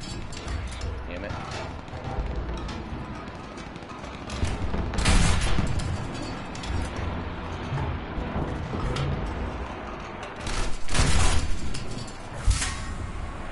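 Tank gunfire in the War Thunder game: heavy booming shots and bursts of fire over an ongoing battle din, with someone talking intermittently.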